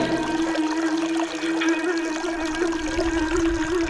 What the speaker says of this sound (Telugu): నిత్యం మూడు వందల అరవై ఐదు రోజులు గృహపై నుంచి ఈ నీటి ధారలు చంద్రలింగాన్ని అభిషేకిస్తూనే ఉంటాయి